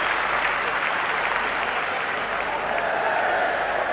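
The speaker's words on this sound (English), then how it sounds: "he'll get a huge ovation as Barry Horn goes off to make way for him" Football crowd at Everton's ground in a 1992 league match against Coventry City gives a substituted player a big ovation, steady dense applause and cheering that fills the whole moment, with a commentator's voice riding over it.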